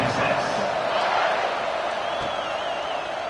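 Stadium crowd buzzing after a score in the College Football 26 video game, Texas versus Georgia Tech, a steady dense roar of many voices with scattered whoops, continuous and moderately loud throughout.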